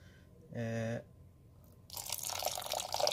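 Water is poured into an aloe vera halwa mixture. A brief tonal sound comes first, then after a pause a bright, splashy pour runs for just over a second.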